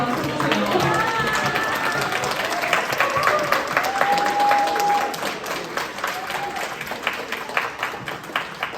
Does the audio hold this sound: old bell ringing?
no